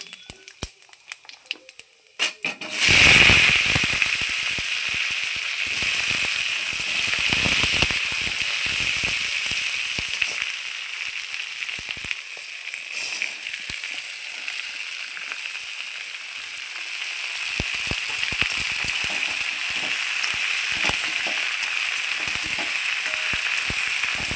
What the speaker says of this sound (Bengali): এটা একটু নাড়চাড় করে নিয়ে আমি এইবার সবজিগুলো দিয়ে দেবো